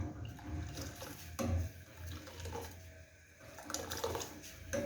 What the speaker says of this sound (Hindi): अब थोड़ा सा पानी मैं और ऐड करती हूँ।